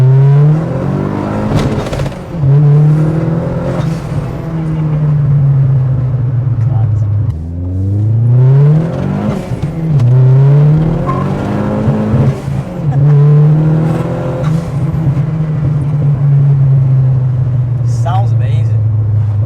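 A 1990s car engine accelerates hard through the gears, each loud rising rev dropping at the shift before climbing again, repeated several times, with people talking over it.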